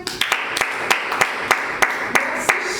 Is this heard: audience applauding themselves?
yes